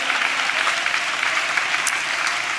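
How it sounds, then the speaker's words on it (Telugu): A church congregation applauding during a sermon, steady dense clapping from many hands filling a large room, sustained and fairly loud with no pause. "చప్పట్లు కొడితే యేసయ్యకు స్తోత్రాలు చెప్దాం."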